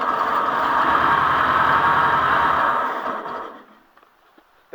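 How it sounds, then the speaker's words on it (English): A vehicle fuel pump running with a steady, mid-pitched whirring hum that holds for about three seconds, then winds down into near silence before a brief click at the end. "That'd be the fuel pump."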